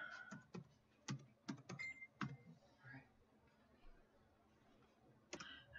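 Computer keyboard typing while entering a server name in a Windows Event Viewer subscription setup: a handful of sharp, close keystroke clicks in an irregular burst, then a pause and one last click.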